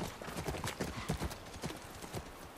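Horse hooves clip-clop in quick, steady trotting steps on the ground in the video game The Last of Us Part 1 on PC, fairly close and moderately quiet.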